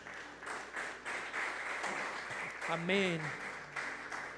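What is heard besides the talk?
applause in church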